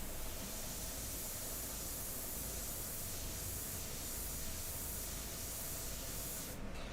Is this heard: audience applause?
no